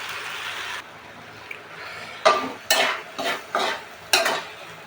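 Jute leaves (pat shak) are stir-fried in a pan. A soft sizzle fades early, then five distinct scraping stir strokes come at a steady rhythm, close and fairly loud, with faint frying between them.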